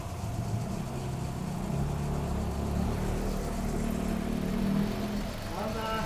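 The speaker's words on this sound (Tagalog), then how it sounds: "Gas engine." Gas engine of a Mitsubishi Pajero (second-generation Montero) running steadily nearby, a continuous low hum with faint whir, while people talk intermittently over it.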